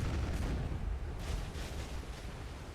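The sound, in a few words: ship cannons firing in the video game Black Desert Online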